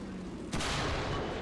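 A Centurion Mk.10 tank cannon fires once in War Thunder, a single sharp loud blast with a broad lingering rumble trailing off behind it.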